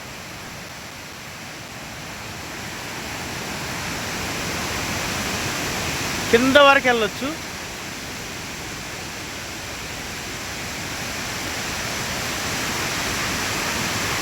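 Kothapalli waterfall near Vizag gives a steady, loud, unbroken roar of rushing water throughout, and a person speaks briefly over it midway.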